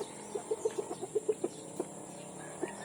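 Rhode Island Red hens clucking nearby, a quick run of about a dozen soft, rhythmic clucks followed by a few scattered ones over a faint steady background hum.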